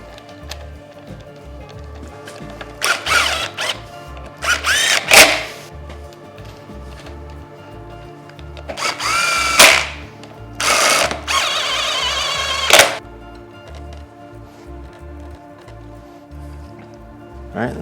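Bolts being tightened on a Honda Grom handlebar clamp during a Pro Taper School Boy Hi bar install, heard as bursts of metallic ratcheting clicks and squeaky tool strokes in several separate runs, close up against a low steady hum, with no talk.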